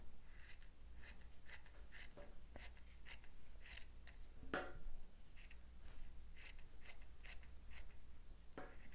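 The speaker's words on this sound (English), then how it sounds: "I'm going to cut out another triangle shape with this red" Scissors cut red paper into a triangular sauce shape for a paper pizza craft, producing a steady series of close, crisp snips at a regular pace with no talk.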